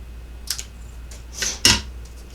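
Scissors snip through a paper border strip for a handmade Valentine card, a few short crisp cuts close by, the last one loudest, with quiet pauses between.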